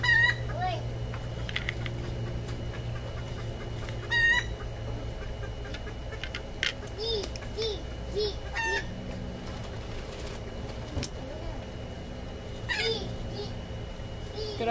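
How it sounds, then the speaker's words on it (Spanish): Hen clucking and cackling after laying an egg, in a backyard among succulent plants, with a rooster-like crow rising at moments; the calls come in repeated bursts over steady low background hum, fairly near and moderately loud. "Creo que ya puso huevo la gallina, porque está cantando."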